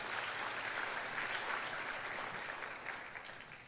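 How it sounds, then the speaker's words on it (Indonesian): A church congregation claps for God during a worship service, a dense sustained patter of many hands that stays fairly even before gradually easing off, heard from a little distance with no voices on top. "berikan tepuk tangan buat Tuhan."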